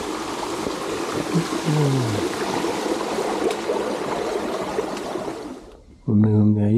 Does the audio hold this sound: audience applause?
no